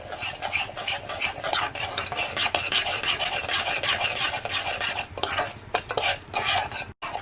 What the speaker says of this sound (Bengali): ঘি দিয়ে এখন ভালো করে ভেজে নিই সুজিটাকে লাল লাল করে